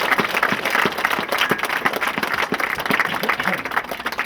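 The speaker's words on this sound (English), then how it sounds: "I'd like to give all those people a round of applause as well" Volunteers of a football club are applauded after a cup final, the clapping dense and steady throughout with some crowd noise mixed in, fairly close and loud.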